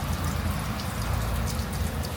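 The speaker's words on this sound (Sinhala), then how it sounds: "අදත් සුපිරි වැස්සක් යනවා උදේ ඉඳන්." Heavy rain falls steadily on a rainy day in Sri Lanka, a dense continuous hiss of drops hitting surfaces close by with no pauses, and no voices over it.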